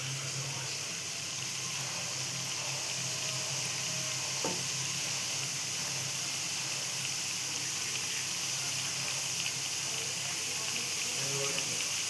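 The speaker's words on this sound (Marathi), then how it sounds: "आता आपण त्याला फ्राय करूया. इथे आपण तेल तापत ठेवलेलं त्यात टाकूया." Steady sizzling of a sweet Marathi snack frying in hot oil, continuous and close, with faint stirring noises underneath and no talking.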